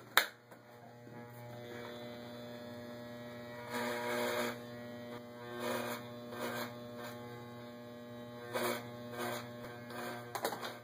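Electric hair clippers fitted with a 1.5 guard cutting curly hair for a mohawk fade, a steady close electric hum with short brighter bursts of buzzing as the blade passes through the hair.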